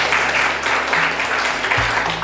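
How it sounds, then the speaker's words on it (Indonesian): Brief applause for a guest at a Golkar party youth wing preparatory meeting in Bekasi, moderately loud clapping over a low, steady background hum and tones. "Berikan tepuk tangan buat beliau."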